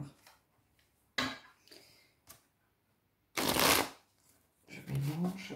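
Tarot cards being shuffled by hand, several short riffling bursts separated by pauses, the longest and loudest near the middle, close and clear.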